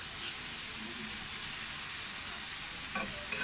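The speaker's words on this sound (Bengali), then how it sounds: "এটা এইভাবে আমি নাড়াচাড়া করে খুন্তি দিয়ে সুন্দর করে আমি বিছিয়ে বিছিয়ে দিব যাতে ঝোলে ঝোলটা শুকিয়ে যায়" Telakucha greens fry in a pan while a spatula stirs and spreads them to dry the liquid, producing a steady bright sizzle with soft scraping near the end.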